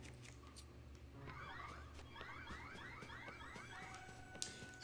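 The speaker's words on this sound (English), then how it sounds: "Oh, they set off an alarm." An alarm goes off in The Legend of Zelda: Tears of the Kingdom, a rapid run of rising, warbling chirps that repeats for a couple of seconds over quiet game ambience, moderately loud and without speech.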